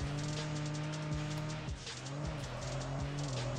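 Tires squeal steadily as a car drifts around a corner in a mobile racing game, with a sustained engine drone throughout and sharp skid bursts cutting in near the middle, loud and close.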